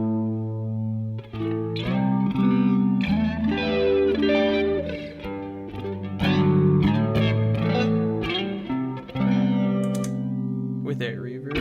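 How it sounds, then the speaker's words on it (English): An electric guitar plays chords through a Deco pedal's sweeping, whooshing flanger effect with some reverb, sustained and prominent throughout. "And here's a flanger from the Deco."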